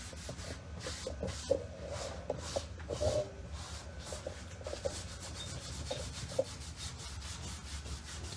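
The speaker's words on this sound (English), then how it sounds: "So I'm probably going to have to get out like my electric sander." An electric sander works over painted wood on a reverse decoupage piece, making a soft continuous rubbing whir broken by small bumps and scrapes as it moves across the surface. Nobody speaks.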